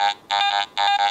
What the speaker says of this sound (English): Iron nail, it's below the 25 you've set, so it's going to sound low tone or junk.